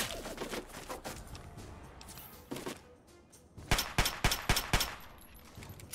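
Sentry turret machine gun fire in Fallout 3, heard as several sharp bursts. It is faint and scattered at first, then a loud, closely spaced rapid run of shots near the end.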